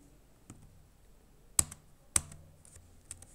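Light computer keyboard typing with soft scattered keystrokes, punctuated by two sharper, louder key presses such as Enter, close and alone in a quiet room while working in Tally accounting software.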